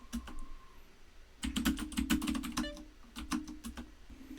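Keystrokes on a computer keyboard as a touch command for a markdown file is typed: a few scattered taps, then a quick, close run of clicks with brief pauses.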